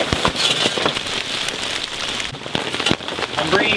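Steady rain falls on a surface with dense close patter and scattered louder drop hits, continuous throughout the short stretch.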